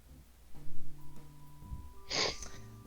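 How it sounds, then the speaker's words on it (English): Someone close by sneezes with a sharp, breathy burst, after a few snorting, wheezy intakes of breath. "Your sneezes sounded painful."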